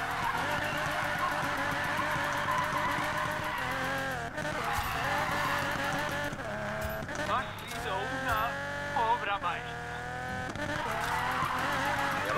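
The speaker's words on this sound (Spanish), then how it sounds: "Voy a hacer un derrape de 1 kilómetro." Car in Need for Speed Payback held in a long drift, engine revving steadily with tire squeal sweeping up and down, loud and continuous throughout.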